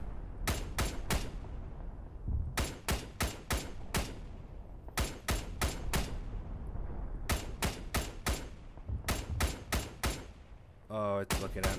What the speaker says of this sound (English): Keep shooting, keep shooting. Don't stop shooting.